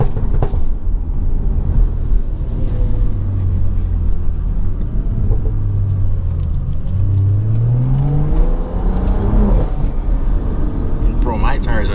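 A turbocharged inline-four BMW with a Stage 2+ tune accelerates hard with its tires spinning, the engine droning low and steady before rising in pitch near the end, while someone talks over it throughout.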